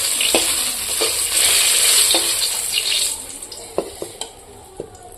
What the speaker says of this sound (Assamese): ইয়াত এতিয়া পটলখিনি বহাই দিওঁ এইখিনি গৰমেই হৈ আছে